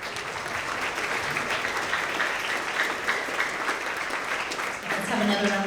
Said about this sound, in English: Let's have another round of applause for all English language arts